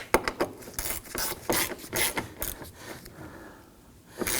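Quick ratchet clicks and scraping handling noises while tail light bolts are run down on a 2015-2024 Nissan Murano, close up in irregular bursts with a quieter pause near the end.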